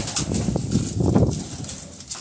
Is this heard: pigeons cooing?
yes